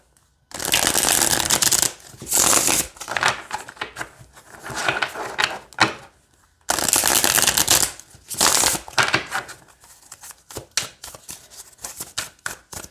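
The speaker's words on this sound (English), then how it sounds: "Oh, they're not as hard to shuffle." Tarot cards from the Cosmic Slumber deck are shuffled in repeated bursts of crisp riffling and flapping, broken by brief pauses and ending in a run of quick separate snaps. The shuffling is close and clear, with no talk over it.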